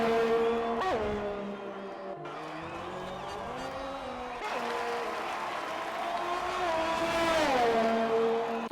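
Engines of racing cars in an F1 video game, including a McLaren, drone and shift pitch steadily while a commentator talks over them, with the engine whine swelling and falling as cars pass.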